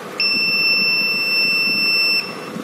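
An electronic buzzer, switched on by a timer circuit, sounds as one steady, loud, high-pitched tone for about two seconds and then cuts off cleanly.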